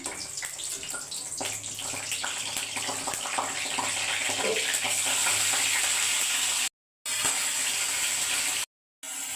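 A halved dried red chili and two bay leaves sizzle in hot oil, giving a steady, close, hissing crackle that continues throughout and drops out briefly twice.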